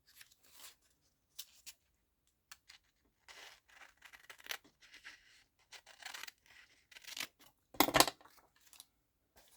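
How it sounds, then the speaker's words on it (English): Paper being cut roughly with scissors while working on a handmade journal, heard as scattered close snips and rustles with a louder crisp burst near the end, no talking. "I'm going to just cut it roughly out of the paper."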